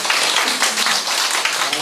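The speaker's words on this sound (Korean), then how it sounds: "박수 한번 보내주세요" A church congregation applauds during a sermon, dense continuous clapping close and fairly loud throughout, with no voices over it.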